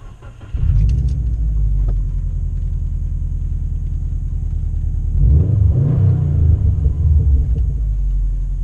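A straight-piped 2013 Subaru WRX cold-starts, heard from inside the cabin: a quick crank catches into a loud, deep idle rumble that swells briefly around a blip before settling back into a steady drone.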